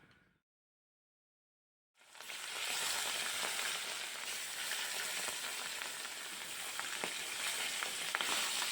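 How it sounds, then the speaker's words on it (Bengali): Catla fish pieces dropped into hot oil in a kadai burst into a loud, dense sizzle after a brief silence, then keep crackling and spitting steadily close by. "এখন আমি একটা একটা করে মাছের পিস তেলের মধ্যে ছাড়বো"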